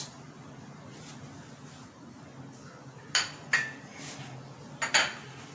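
Tomatoes and carrots tipped into a salad bowl, a few clinking knocks against the dish, with two louder pairs of clatters standing out from a faint background hum.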